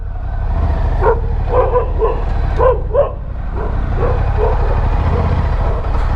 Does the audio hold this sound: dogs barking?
yes